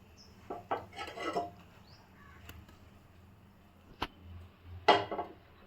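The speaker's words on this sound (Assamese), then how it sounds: "পেন এখন গৰম কৰি তাত তেল অলপ দিম।" Kitchen clatter as a pan is set on to heat with a little oil for dry fish chutney. A few scattered metallic clinks and knocks, one sharp tap, and a louder scrape near the end, all close and sparse, with no talking.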